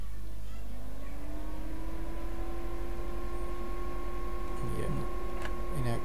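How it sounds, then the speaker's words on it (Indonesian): An electric fan hums steadily close to the microphone with a constant whirring drone and faint tonal whine, and a brief shuffle or knock comes in near the end. "Sekarang saya nyalakan kipas."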